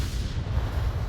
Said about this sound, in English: That's a frag.